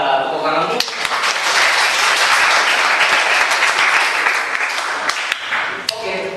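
Students in a vocational school class clapping together, a loud, dense burst of applause that swells and holds for several seconds, with a voice just before and a few sharp claps as it dies away.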